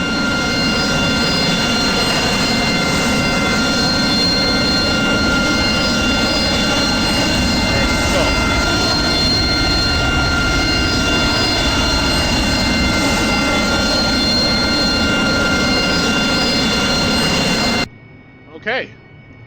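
An AV-8B Harrier jet engine roars loud and steady with a high whine while the aircraft sits on the runway before takeoff, then cuts off abruptly near the end, leaving a brief quiet moment.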